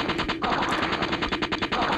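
Rapid automatic gunfire from the video game Deep Fear rattles out in a dense, continuous burst of sharp shots, loud and close.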